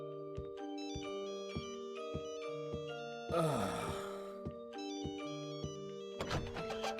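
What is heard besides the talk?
eerie ringtone-like melody from a video game hotel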